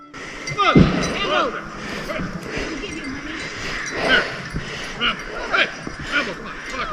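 Several hound dogs bark and yelp in a busy overlapping chorus in the woods, some near and some farther off, with people talking over them.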